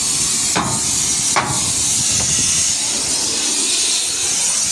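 A cutting torch burns through seized wheel nuts, giving a loud, steady hiss close by, broken by a couple of sharp metallic knocks early on.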